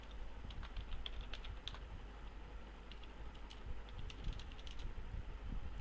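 Quiet, quick clicks of typing on a computer keyboard in short bursts as a name is entered, set against a low background hum.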